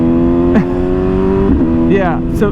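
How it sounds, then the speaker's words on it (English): A 2024 BMW M1000R motorcycle with an upgraded exhaust drones loudly at steady revs with a strong tonal hum and slight pitch shifts, while someone speaks briefly over it. "the sound of this exhaust"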